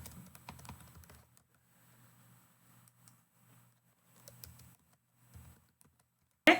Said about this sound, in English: Type in this prospective information.